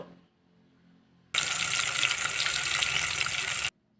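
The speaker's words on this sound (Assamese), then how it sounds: "এতিয়া মাছখিনি ধুনীয়াকৈ নিমখ হালধি সানি ভাজি ল'ব" Fish coated in salt and turmeric frying in hot oil in a home kitchen, a steady close sizzle that starts abruptly after near silence, holds for a couple of seconds, then cuts off.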